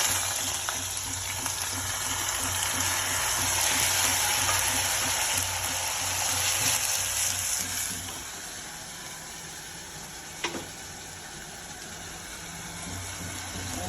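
Bottle gourd frying in a pan gives a loud sizzling hiss that fades after a few seconds, leaving a quieter crackle and a low background hum.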